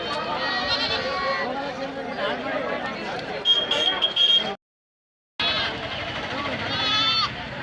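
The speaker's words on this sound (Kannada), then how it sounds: "ಪ್ರತಿ ಮಂಗಳವಾರ ಇಲ್ಲಿ ಮರಿ ಮೇಕೆ ಸಂತೆ ನಡೆಯುತ್ತೆ" Young goats bleat repeatedly at a Tuesday livestock market in Tumakuru, close and overlapping, with crowd chatter around them. The sound cuts out briefly near the end, then the bleating returns.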